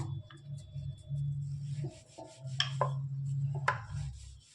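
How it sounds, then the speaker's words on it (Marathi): A rolling pin rolling out corn puri dough on an oiled surface, giving soft repeated rubbing strokes with low rumbles and a few light knocks, close and fairly quiet. "खाली पुरी आता आपण लाटूया"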